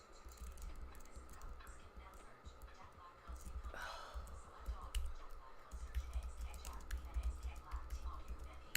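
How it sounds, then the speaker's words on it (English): Computer keyboard typing, scattered irregular key clicks, fairly faint, under murmured talk and background noise. "you guys are just gonna hear me typing"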